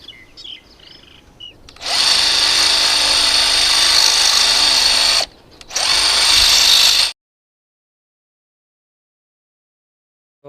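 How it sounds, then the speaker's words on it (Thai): A power drill fitted with a drill bit advertised to bore through anything whines loudly for about three seconds, stops briefly, runs again in a shorter burst, then cuts to silence. "คลิปนี้ผมว่าจะมาทดลองเจาะไอสว่านไอดอกสว่านแบบนี้ดูนะครับ"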